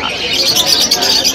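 Lovebirds, including gray-winged birds, chirp and tweet continuously in cages at a breeding setup in Malabon, a dense flock chatter of overlapping calls close by.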